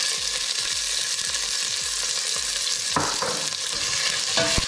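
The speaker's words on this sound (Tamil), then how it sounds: "ஒரு நிமிஷம் மட்டும் நல்லா வந்து வதக்கலாம்" Onion, tomato and garlic sauté in a pan, a steady loud sizzle with repeated scraping stirs and clinks of the spoon against the metal throughout, no voices.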